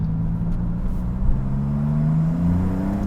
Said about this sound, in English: that downshift was so perfect